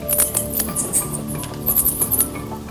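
Bats calling inside a cave with a thick guano floor: a dense, continuous chorus of high, sharp squeaks and chirps, close and steady, with no talking.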